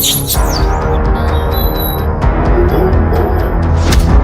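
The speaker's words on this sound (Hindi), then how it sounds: "चिड़ियों की चहचहाहट और जंगली जानवरों की आवाज हमें स्पष्ट सुनाई देने लगी" Birds chirp and tweet in short repeated calls over a dense, steady wash of forest background noise, with no voices.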